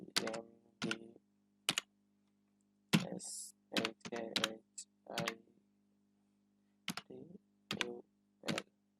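Bursts of computer keyboard typing while a first name is entered into an online account sign-up form, short clustered keystroke runs separated by pauses, close and clear with no talking.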